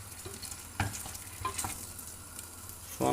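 Spinach börek filling with cumin, black pepper, chili flakes and tomato paste sizzles softly in a pan, a quiet steady fry with a few sharp scrapes of stirring.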